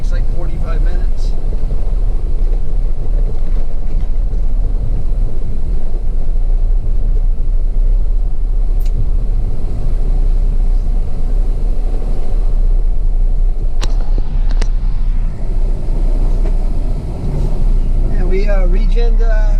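A pickup truck idles steadily through a diesel exhaust regeneration cycle, giving a loud, continuous low rumble with a few brief clanks and a short higher whine near the end.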